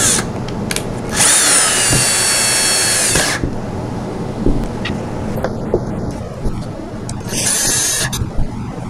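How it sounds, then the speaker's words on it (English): A power drill on a low torque setting whirs in a loud burst for about two seconds while driving screws into doll bunk bed railings, then shorter bursts follow, with clicks and handling sounds between them. "I'm going to be using a drill to make it a little bit easier"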